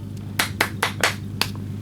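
A single person claps hands five times at an uneven, deliberate pace, each clap crisp and close, over a low steady background hum.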